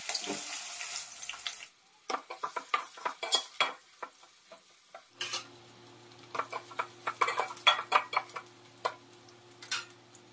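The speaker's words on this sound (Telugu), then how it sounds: "ఇందులో కట్ చేసుకున్న ఉల్లిపాయ ముక్కలు వేసి వేగనివ్వాలి." Onions fry in oil with cloves, cinnamon and cardamom for an Andhra mutton curry, heard as a soft sizzle under a run of sharp, irregular stirring scrapes and taps close by, with a faint steady hum joining partway.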